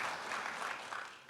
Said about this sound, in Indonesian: Boleh sekali lagi dengan semangat tepuk tangan bagi Tuhan Yesus.